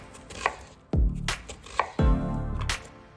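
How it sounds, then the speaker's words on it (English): A knife chops through garlic cloves and onions on a cutting board: a few sharp, close strikes with a heavy thud at each cut, spaced irregularly, with no talk. "we prep some garlic cloves and cut up some onions lengthwise"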